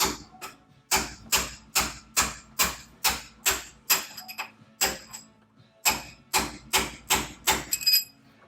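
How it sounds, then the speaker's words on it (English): Sharp metallic blows of a 24-ounce hammer on a flat punch, working on a welded differential, ring out one after another in a steady rhythm, about two per second, with a short pause midway. "So I got me a flat punch and a 24-ounce hammer here."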